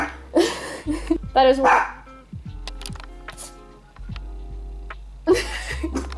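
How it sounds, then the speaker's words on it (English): A dog barks in short sharp bursts near a speaker indoors, alternating with a person talking, with faint keyboard tapping in between. "Please don't bark, I am speaking."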